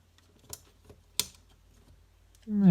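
Keycaps prised off an Amstrad CPC 6128 keyboard, two sharp plastic clicks with faint ticks between them in a quiet room, then a voice comes in at the end.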